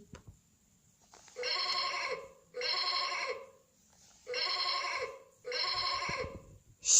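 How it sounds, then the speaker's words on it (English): Sheep bleats four times in a steady rhythm, each call a wavering nasal baa of similar length with short pauses between, close and clear against a quiet background. "Sheep."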